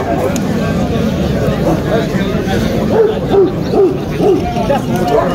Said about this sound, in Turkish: şu an yarışma alanında görmek olduğunuz köpeklerimiz Sivas'ın, Türkiye'mizin gururu Kangal köpekleri